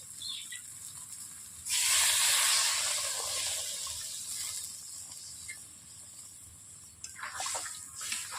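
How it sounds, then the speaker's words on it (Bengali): Water rushes into a hot pan of sautéed potato and pointed gourd for a poppy-seed curry, a loud sudden hissing splash that settles into a softer simmering hiss, with a few light clinks. "এরপর আমি জল দিয়ে দিই।"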